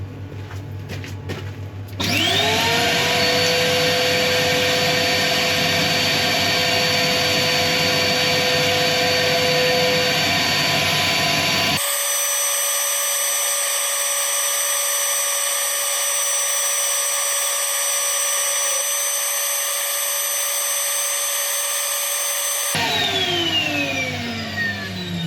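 A wood lathe spins a turned aluminium piece with a steady high whine and hum while it is sanded, a loud continuous tone that shifts in character partway through and winds down at the end.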